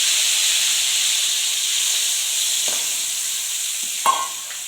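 A pan for temple-style pulihora hisses and sizzles steadily up close, with a couple of soft clinks near the end and a sharp stirring scrape that briefly flares the frying noise, no talking.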